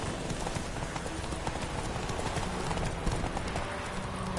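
Roach the horse galloping in The Witcher video game, with dense, fast, continuous hoofbeats pounding close and loud for the whole stretch.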